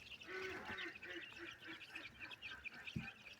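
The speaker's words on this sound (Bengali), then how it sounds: "পাখিগুলো খুব সুস্থ সবল দৌড়াদৌড়ি করতেছে" Ducks on a farm quacking and moving about at a moderate distance, a scattered series of short calls over faint background noise.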